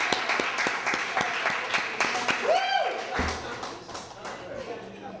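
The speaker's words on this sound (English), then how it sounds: "Let's give Captain another great round of applause." Poetry-reading audience at a library applauding a poet, steady clapping throughout with a few louder distinct claps, a brief whistle-like rising tone in the middle and a voice speaking over it.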